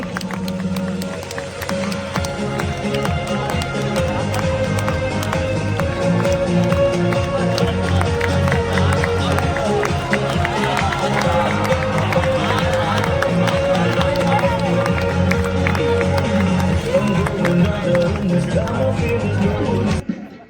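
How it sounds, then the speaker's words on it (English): An audience claps steadily at a school sports function, a dense sustained patter of many hands with cheering voices and music underneath throughout. "Kindly clap for them."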